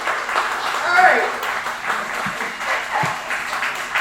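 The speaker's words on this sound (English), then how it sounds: "I can hear you clapping." Audience at a poetry reading in a boathouse claps in a steady patter of moderate loudness, while someone speaks over it.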